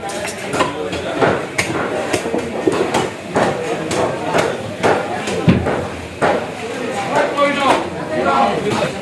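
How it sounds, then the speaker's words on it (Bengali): A fish is cut at a Dhaka New Market fish stall: rapid, uneven knife chops and thuds on a board, loud and close, over continuous market chatter and background voices. "ঢাকা নিউ মার্কেট মাছের আড়ত থেকে মাছটি কিনলাম এখন কাটাবো"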